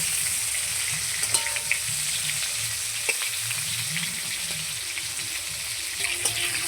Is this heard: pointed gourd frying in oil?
yes